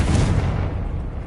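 A Confringo spell blast in Hogwarts Legacy, one heavy, booming explosion with a deep rumble that starts loud and fades over about a second.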